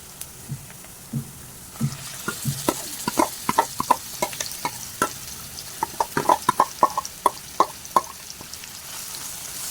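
Chicken being sautéed in a pan for traditional Malvani chicken curry, a soft sizzle under repeated scraping and clinking of a spoon stirring against the metal, irregular and close, with no talk.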